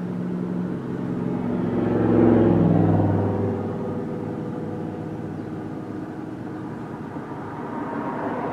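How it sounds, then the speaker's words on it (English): A convertible car drives past outdoors, its low engine and road rumble swelling to a broad peak early on and then fading back into a steady background hum. "Got another convertible driving by."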